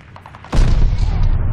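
Stun grenade and gunfire in the Destiny video game: a quiet start, then a sudden loud boom that turns into a dense, sustained roar of shots and blasts lasting to the end.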